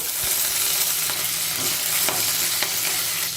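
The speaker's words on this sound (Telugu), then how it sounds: "ఇప్పుడు పచ్చిమిరపకాయ ముక్కలు వేగాయి పోపు దినుసులు కూడా వేగిపోయాయి" A steady sizzle of green chilies and spices frying in hot oil, with occasional clinks and scrapes of a spoon stirring, close up and without talk.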